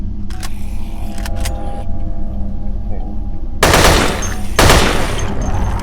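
Two loud, rapid bursts of gunfire from the zombie shooter Dead Effect break through a quieter hum of game sounds, following a few sharper isolated cracks earlier on.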